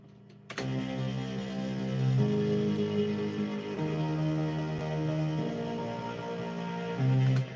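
Layered bass and trance synths from FL Studio sound together in a fat electronic breakdown, with sustained chords and deep bass changing every couple of seconds after a sudden start, steady and moderately loud with no talking.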